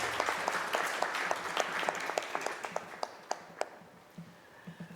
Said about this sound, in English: Can we please have a round of applause for the winners?